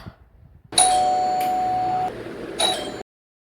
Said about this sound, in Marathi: बघू शकता बरेच बेल कशी वाजते बघा